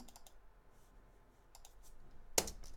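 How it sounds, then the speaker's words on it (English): Computer keyboard keys clack in scattered quick bursts, faint and close, ending in one sharp hard hit on the keys. "I keep smashing my keyboard, sorry, it's just so fun."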